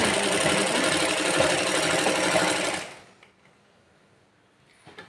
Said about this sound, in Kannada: ಇವತ್ತು ನನ್ನ ಬ್ಲೌಸ್ ಸ್ಟಿಚಿಂಗ್ ಇದು